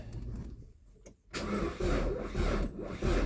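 A Nissan car engine cranks and catches after a swapped-in battery, starting abruptly partway through following a quiet pause, then settling into a loud, steady idle with a rough, rattly edge.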